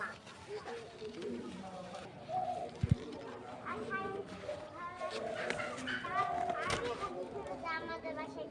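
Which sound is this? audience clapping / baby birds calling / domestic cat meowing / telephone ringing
baby birds calling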